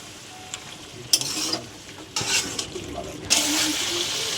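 A spatula stirs cabbage with fish head curry in a pan, making intermittent scraping and sizzling bursts with a few sharp clatters between quieter stretches of low simmering.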